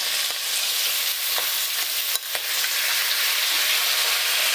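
Mixed vegetables and peas sizzle steadily in a hot pan as soaked mung dal is added for a Nabanna festival annakut dish, with a constant broadband hiss and a few sharp clicks of stirring.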